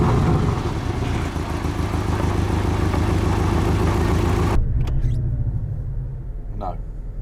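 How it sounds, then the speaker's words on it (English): A Porsche 718 Boxster S turbocharged four-cylinder engine runs with a loud, steady, gruff rumble. About halfway through it drops to a quieter, uneven idle close by. "Let's fire up this mighty 4-cylinder turbocharged engine."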